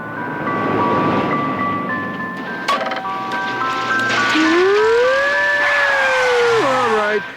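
An ice cream truck jingle plays as a cartoon melody, a bright steady tune over background noise, with a sudden thump partway and a sliding tone near the end.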